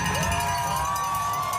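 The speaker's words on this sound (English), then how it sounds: "People are cheering." A crowd cheers and whoops at a race finish line in a dense, continuous roar that fills the whole short moment.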